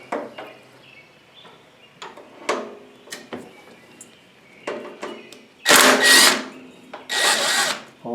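A power tool fitted with a 14 socket spins a bolt out on an MTD Yard Machine mower, first as scattered clicks and knocks, then two loud whirring bursts near the end, close up with no talking.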